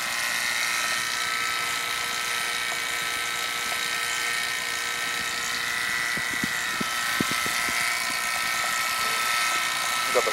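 An HVAC vacuum pump runs steadily while pulling down through the service hoses, a constant buzzing motor drone with a few faint clicks near the end.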